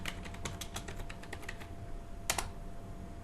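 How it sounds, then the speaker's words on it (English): Keys clatter on a computer keyboard as a message is typed, with rapid, irregular close taps, a short pause and then a few more strokes, and no talking. "at this point you type in whatever the message you want to send to the server from the keyboard"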